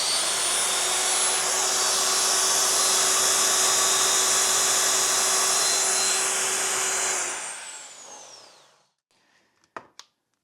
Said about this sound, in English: this motor is pulling 7 amps of current.